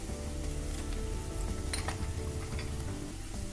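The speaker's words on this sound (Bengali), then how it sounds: "এগুলো দিয়ে এবারে আমি এটাকে ভালো করে মিডিয়াম ফ্লেমে রেখে আমি মশলাটাকে ভালো করে কষিয়ে নিয়েছি" Spices with salt, ground coriander and cumin sizzle steadily in a pan over a medium flame, close and continuous, with occasional clinks of a spoon stirring against the metal.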